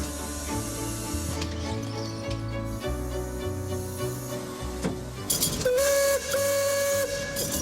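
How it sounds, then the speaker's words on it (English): A Lombard steam log hauler runs with a loud, dense mechanical clatter and rhythmic chugging pulses, a hissing burst near the end, and a sustained whistle-like tone rising over the machinery. "the Lombard steam log hauler"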